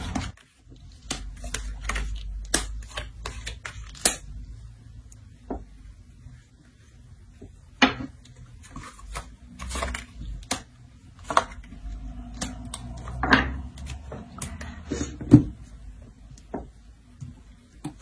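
Tarot cards are shuffled close by in a quiet room, giving irregular sharp flicks and soft slides in short bursts with pauses and scattered taps between them.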